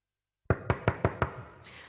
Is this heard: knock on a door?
yes